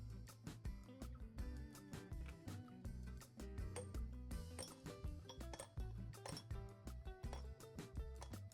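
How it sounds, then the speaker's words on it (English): Ice cubes clink against a glass of water again and again, bright rapid taps and chimes sounding close and clear with no talk. "I add the ice cubes to a glass with some water"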